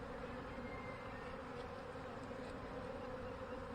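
A mass of honeybees buzzes around an open hive during a queen check, a dense, continuous drone that stays steady and fairly loud throughout, with no talk.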